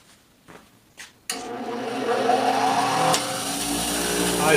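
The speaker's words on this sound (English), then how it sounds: "Eyes and ears on, especially when you're working with a wire brush." A power-driven wire wheel strips old bluing from a Remington Model 370 rifle, spinning up after a few soft knocks into a loud, continuous, rising whine that grinds on steadily.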